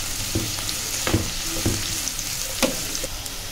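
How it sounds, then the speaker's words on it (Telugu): Egg noodles fry in oil with a soft, continuous sizzle, broken by several sharp scraping stirs against the pan. "ఇవి మంచిగా బాయిల్ అయిపోయినాయి ఆయిల్లో"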